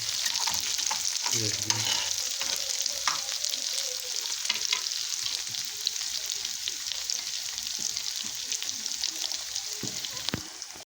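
Fried potatoes sizzle steadily in a hot pan while a utensil scrapes and stirs through them, with occasional sharp clicks against the pan.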